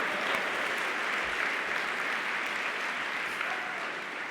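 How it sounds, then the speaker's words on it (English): Audience applause at a game awards show, a dense, even roar of clapping from a large crowd, sustained without speech. "give yourselves a big round of applause for missing those awards"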